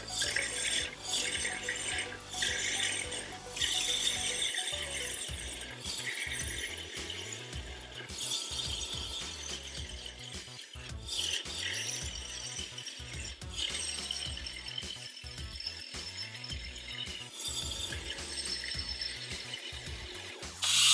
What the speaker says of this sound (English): I have it in the vacuum chuck. I'm going to turn that on. It's a little bit loud